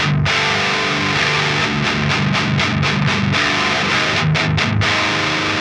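A heavily distorted electric guitar through a boost pedal that filters out low end plays loud, dense chords with rhythmic chugging strums, thick and saturated throughout.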